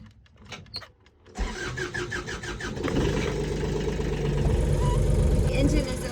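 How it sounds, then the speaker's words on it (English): An old boat engine being repaired in Fiji cranks over with a few rapid clicks and then catches, settling into a loud, steady running rumble that holds until the end. "The engine is overheating."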